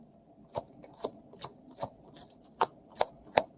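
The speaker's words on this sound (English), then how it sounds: "one more quick shuffle" Tarot cards shuffled by hand, giving a steady run of about ten crisp, papery slaps roughly every few tenths of a second, close and moderately loud with no talking.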